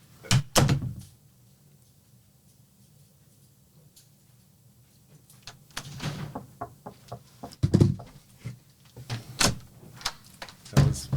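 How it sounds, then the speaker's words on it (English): Knocking on a door comes as a few clusters of sharp raps spread across a quiet indoor room. Faint low background hum fills the stretches between them. "That was me knocking."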